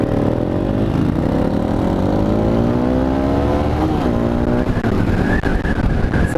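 A motorcycle engine revving while stationary, loud and close, its pitch climbing steadily then dropping and rising again under a constant rumble.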